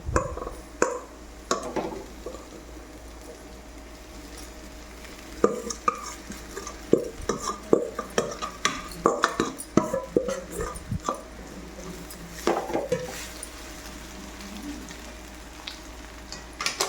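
Soaked flattened rice (poha) stirred around a frying pan, with soft scraping and spoon knocks in an uneven rhythm over a faint sizzle, close and fairly quiet, with no talking.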